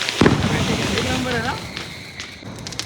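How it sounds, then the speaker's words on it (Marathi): A sharp firecracker burst pops near the start, followed by a few faint crackles later, with people talking over the noise. "फटा फटाके सोडले संपले फटाके"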